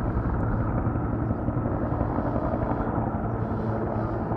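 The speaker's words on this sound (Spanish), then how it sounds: "hemos visto aviones dromader y también helicópteros" Firefighting helicopters work over a forest fire at Pidihuinco, Chimbarongo. A steady, heavy rotor drone rumbles without a break at moderate distance, with no talking.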